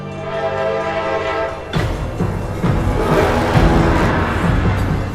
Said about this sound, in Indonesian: deru kereta yang melaju